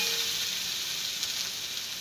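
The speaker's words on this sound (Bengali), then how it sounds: "এবার নুন দিয়ে একটু আরও ভাজবো" Potatoes fry in a pan with a steady, close sizzle that holds throughout, without speech, while salt is added for further frying.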